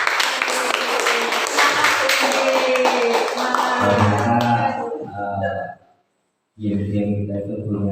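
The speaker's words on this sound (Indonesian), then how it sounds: "Sekali lagi tepuk tangan" Audience applause at a school discussion session on vision and change initiatives: dense, loud clapping for about five seconds, thinning out before a short silence and then sustained tonal sounds.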